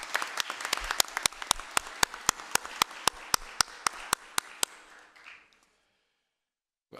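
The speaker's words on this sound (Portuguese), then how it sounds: "Uma salva de palmas para ele." Applause at a formal council session honoring a public official, with a crowd clapping loudly and one sharp clapper keeping a steady beat on top, fading out after about five seconds into near silence.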